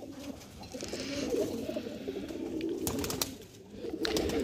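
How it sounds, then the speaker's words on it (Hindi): Nildumma breed flying pigeons coo softly and repeatedly in a loft in Lucknow, low murmuring calls overlapping with faint flutters and brief rustles, close but quiet, with no talking. "ये देखिए नीलदुमा कबूतर है"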